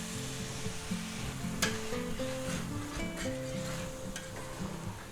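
Rice wine sizzles and cooks off in a hot pan of shrimp and roasted pork fried rice, giving a steady, close crackling fry with a few sharper clicks and scrapes of stirring.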